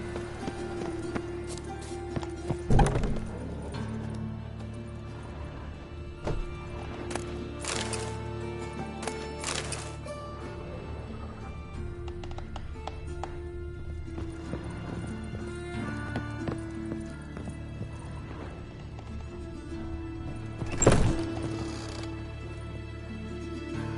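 Roach, the horse in The Witcher 3, trots with steady, rhythmic clip-clop hoofbeats at moderate volume, joined by a snort or whinny and occasional sharp thuds and game sounds.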